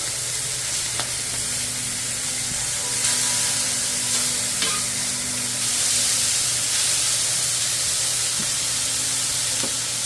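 Smash burgers sizzle steadily on a baking steel, a dense, continuous frying hiss with a low hum beneath and a few sharp crackles and pops, close and fairly loud with no talking.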